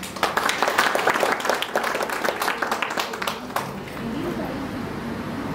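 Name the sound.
audience applauding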